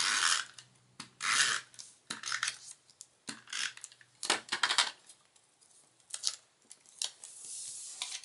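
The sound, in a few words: paper being torn in half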